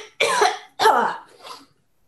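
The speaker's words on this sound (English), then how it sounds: "That's a nasty cough." A person coughs harshly twice in quick succession, close and loud, followed by a fainter third rasping cough, each sounding wet and throaty like a nasty cough.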